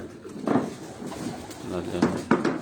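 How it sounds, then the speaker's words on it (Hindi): Many pigeons coo in shared cages on a rooftop, with soft, repeated low coos in overlapping bursts close by, and a voice talking over them. "इज्तिमाई केजेस में बहुत सारे कबूतर हैं"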